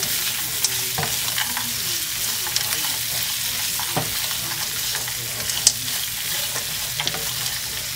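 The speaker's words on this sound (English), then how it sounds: "But then I'm just coating them all in the oil." Edamame stirred in a hot oiled pan, a steady close sizzle with light scraping and tossing knocks from the utensil throughout.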